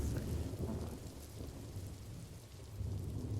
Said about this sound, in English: Now this is just a little background. Just some nice light rain.